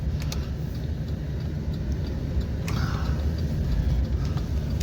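Steady road rumble and engine drone from inside a 2020 Hyundai Elantra cruising down a street, a loud, constant low hum that builds slightly partway through, with no talking.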